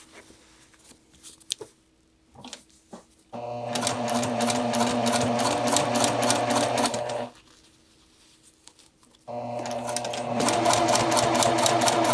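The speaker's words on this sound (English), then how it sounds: "I'm also using the seam guide on my machine to ensure that I'm sewing at a 1/2 inch seam allowance" A sewing machine stitches the collar seam of a jacket at a half-inch seam allowance, running in two long, fast, steady bursts close to the microphone, separated by a short pause.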